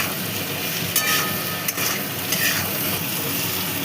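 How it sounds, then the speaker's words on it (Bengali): Fried potatoes being stirred with salt and turmeric in a hot pan, a dense, loud sizzle with scraping strokes and a few sharp clicks of the spoon, no voices. "দিয়ে দিচ্ছি এর মধ্যে পরিমাণ মতো লবণ, হলুদ। তার ভালো করে মিশিয়ে নিচ্ছি।"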